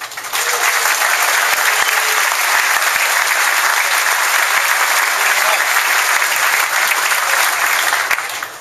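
An audience claps steadily for a welcomed guest speaker, sustained dense applause from a crowd lasting several seconds before tapering off at the end.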